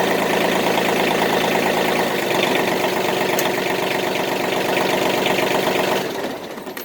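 Diesel engine idling steadily at about 950 rpm, a dense, continuous rattling drone with a knocking texture heard up close, running loud and even before tapering slightly at the end.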